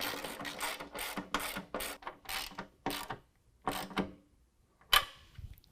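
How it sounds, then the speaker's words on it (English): Hand ratchet tightening nuts on a hooped nerf bar bracket of a 2019 Ram 1500, a series of quick clicking bursts in an irregular rhythm, close, followed by a sharp single clack near the end. "tighten the nuts."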